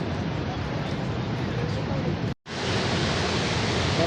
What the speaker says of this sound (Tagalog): Niagara Falls.